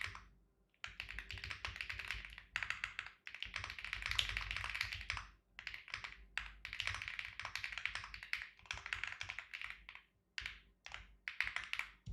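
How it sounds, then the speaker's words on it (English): Quick bursts of typing on a computer keyboard at a trading desk, dense rapid key clatter broken by short pauses, close and fairly quiet, with no talking. "I was just typing something up real quick"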